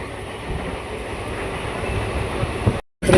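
A train rumbles past close by at Ginigera railway station in Karnataka, with rhythmic clatter of wheels on track and a faint squeal, ending in a sudden cut.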